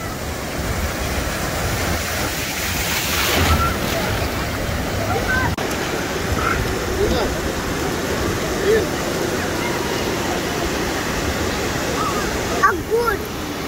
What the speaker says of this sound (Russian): Волна идет, девочки, волна, еще раз.